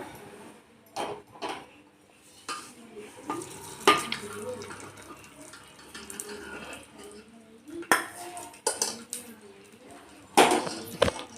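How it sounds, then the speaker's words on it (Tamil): Tempering poured into a pot of mashed onion and mookirattai greens, followed by a spoon scraping and clinking against the vessel in irregular bursts over a faint sizzle. "இப்போ நம்ம தாளித்து வச்சதை அதில் சேர்த்திடலாம்"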